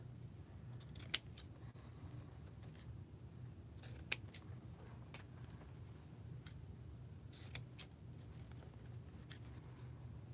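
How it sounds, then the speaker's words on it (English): Sharp scissors snip ribbon on a small Christmas tree bow, several separate crisp cuts spaced irregularly over a quiet room hum, with no talking. "And I'm gonna trim some of these ribbons."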